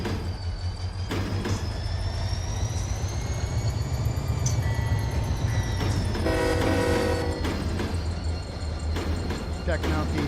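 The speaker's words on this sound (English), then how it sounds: "Checking out the whistle" A diesel locomotive horn sounds in the Run 8 train simulator game, sustained and loud over a steady engine rumble, with a voice talking underneath.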